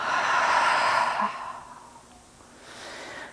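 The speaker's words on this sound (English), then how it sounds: "Cleansing breath. Inhale through the nose. Exhale through the mouth." A cleansing breath during a yoga flow, one long, close, airy exhale pushed out through the mouth that fades into quieter breathing, followed by another soft breath near the end.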